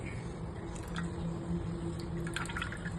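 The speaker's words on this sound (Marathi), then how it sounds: "हा काढा मी गाळून घेत आहे" Ayurvedic kashaya decoction is strained from a pot, giving a faint, close trickle and drip of liquid over a low steady background hum with no speech.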